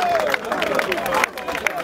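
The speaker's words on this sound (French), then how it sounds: "Les gens applaudissent, il faut les filmer" Crowd at an outdoor public evangelism gathering in Treichville applauding and cheering, a dense wash of clapping and hubbub mixed with voices that continues steadily throughout.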